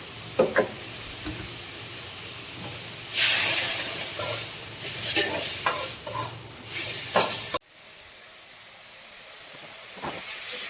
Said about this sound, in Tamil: அதுக்கப்புறம் தக்காளி பேஸ்ட் ஊற்றிடுவோம் வெங்காயம் நல்லாவே வந்துடுச்சு